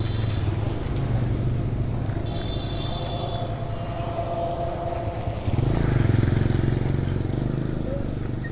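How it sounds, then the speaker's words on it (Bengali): An easy bike, an electric rickshaw, passes close along a road under a cloudy sky, its steady motor and road rumble swelling louder toward the end amid continuous traffic noise. "ইজি বাইক আইসা পড়ছে একটা"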